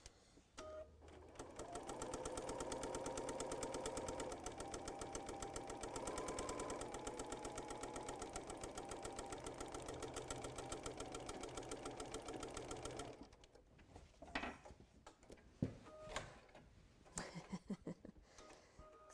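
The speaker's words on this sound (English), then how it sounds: "I'm going to come to the corner, I'm going to do a little back stitch" Domestic sewing machine stitching a pennant flag, running steadily for about twelve seconds with a quick back stitch at the corner, then stopping, followed by a few scattered handling clicks and light rustling.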